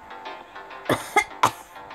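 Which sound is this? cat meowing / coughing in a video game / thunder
coughing in a video game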